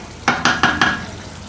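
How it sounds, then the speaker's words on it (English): Four evenly spaced stirring strokes scrape through a pot of rabbit stew as browned shallots go in, each stroke a close, bright swish over a low, steady sizzle, with no talking. "A little bit of a stir, and we're going to put the browned off brown shallots in now."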